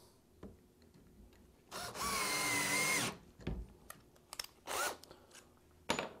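A cordless power drill, fitted with a cut-down Allen key, drives grommets into an AZEK Reserve deck rail with a loud whirring burst of about a second, then several shorter trigger bursts among clicks and handling sounds, close up.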